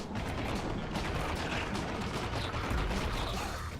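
Cannon in the platformer game The End is Nigh firing, a dense run of booming blasts and crackling explosions, loud and continuous for a few seconds with no talk.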